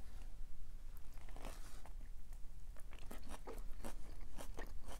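A person bites and chews Uber Eats takeout food close to the mic, with repeated crisp crunches building toward the end over a low background rumble.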